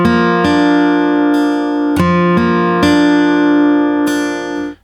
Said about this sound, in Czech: s Holoubkem moje kytara zní takhle